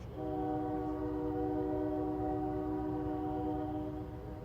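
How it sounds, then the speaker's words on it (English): A Kiamichi Railroad freight locomotive in Idabel, Oklahoma sounds one long, loud, steady horn blast over a low rumble of the train. "that horn also tells you to get out of their way"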